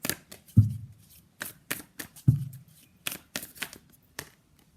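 A Moon Oracle card deck is shuffled by hand, with crisp riffles and flicking card sounds coming in uneven bursts and two heavier thumps, close and clear with no voices.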